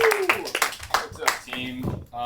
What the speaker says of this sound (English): Scott, clap it up.